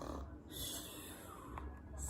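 A voice imitating snoring while reading a children's story, with soft, breathy snorts and rasping breaths, faint and brief.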